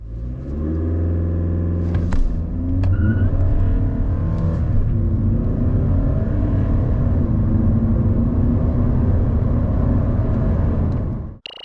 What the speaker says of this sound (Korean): 자, 이번에는 골프 TDI 가속 성능을 볼까요?